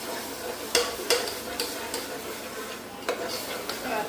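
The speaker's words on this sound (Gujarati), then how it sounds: "આપણી ડુંગળીની તળવા દઈએ" Onions frying in a kadai for a spicy village-style vegetable curry, with a low steady sizzle broken by several sharp clinks and scrapes of a spoon stirring against the pan, close by and fairly quiet.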